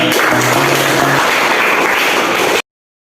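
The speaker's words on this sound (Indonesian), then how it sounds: "Tepuk tangan buat kalian." A classroom of students gives a burst of applause, a dense, loud wash of clapping that continues steadily before cutting off abruptly.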